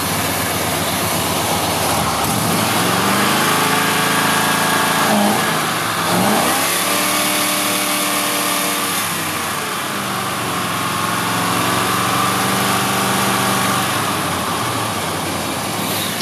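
A 1971 Dodge Polara Brougham V8 with glass pack mufflers revs up from a steady idle, rising and falling in pitch across several throttle blips, loud and close with a deep burbling exhaust and no talking.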